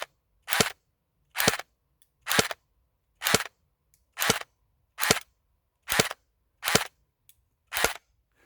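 An airsoft pistol fires BBs at an outdoor range, about 15 to 20 meters out. Nine sharp, loud cracks come at a steady, evenly spaced rhythm, with silence between shots and no voices.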